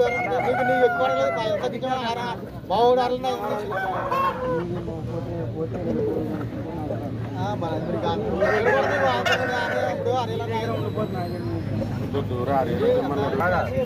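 Roosters crow repeatedly among clucking hens at a busy Saturday country chicken market, their loud calls rising over constant crowd chatter and people talking close by.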